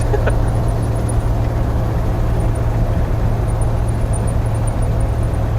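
Ford 460 V8 in a ramp truck with a ZF5 five-speed gearbox, running steadily from fifth down to fourth, heard as a loud, constant low engine drone with road noise from inside the cab and no talking.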